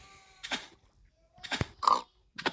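Short, snorting grunts from a pig in the video game Block Crazy Robo World, several separate bursts with brief gaps between them, close and fairly loud.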